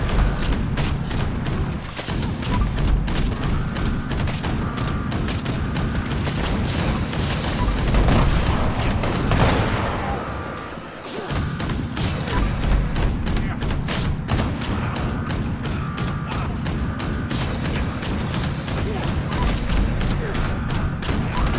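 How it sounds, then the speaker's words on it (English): Sustained gunfire in Fallout 76 during a Christmas-themed session, dense rapid shots and booming blasts running almost continuously, briefly easing in the middle before resuming at full intensity, with some voice mixed in. "I might just crouch and just shoot him down."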